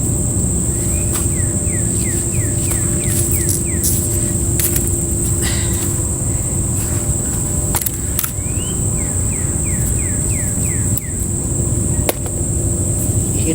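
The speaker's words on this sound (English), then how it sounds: "Hear the birds singing this morning." Birds chirp in repeated short trilling phrases outdoors on an early morning in a yard, faint against a steady loud hum from a window air-conditioning unit.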